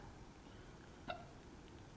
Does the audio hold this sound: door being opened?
no